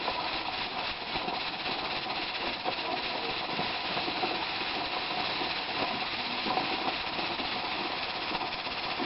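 A pressure canner of ground beef on a stove gives a steady, loud, continuous hiss of escaping steam that runs unbroken throughout, close by and with no voices.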